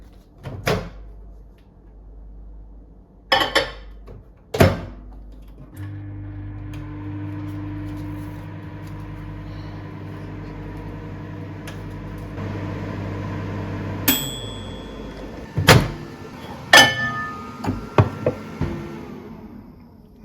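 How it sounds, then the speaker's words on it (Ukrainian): A microwave oven runs off an EcoFlow Delta Max 2000 power station, its door clunking shut before a steady low hum and whirring fan drone for several seconds, then beeps and sharp clicks as the door opens again. "зараз поставимо мікрохвильовку на 2 хвилини і подивимося, скільки енергії знадобиться для того, щоб нам його нагріти"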